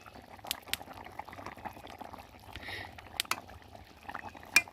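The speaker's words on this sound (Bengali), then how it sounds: "দেখো ঝোলটা কি সুন্দর ফুটছে টকবক করে" Egg and potato curry simmering in an open pot gives a soft, continuous bubbling with scattered sharp pops and light clicks, fairly quiet and close, with no talking.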